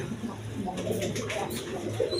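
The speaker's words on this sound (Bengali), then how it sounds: "রেড কালার গররা কবুতর গররা একদম বিগ সাইজের দেখার মতো কবুতর" Big red Gorra pigeons coo in low, rolling calls over a busy background hum, several birds overlapping in a continuous soft murmur.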